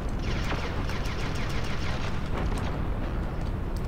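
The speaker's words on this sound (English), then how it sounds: "you should just be spamming blaster shots as fast as you can" Rapid blaster shots spammed in the ReBoot video game: a fast, steady barrage of zapping bursts fills the whole stretch, loud and continuous, with no talk.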